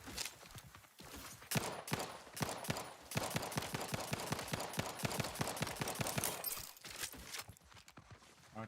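Gunfire in The Outer Worlds 2, a rapid string of automatic shots forming a fast, steady rattling burst through most of the stretch, moderately quiet, with short gaps near the start and end.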